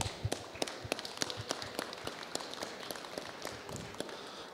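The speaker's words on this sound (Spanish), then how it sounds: "para quien pido un fuerte voto de aplausos" Audience clapping at a university award ceremony for winning estudiantina music groups, heard as a scattered patter of individual claps, moderately distant and uneven, with no talk over it.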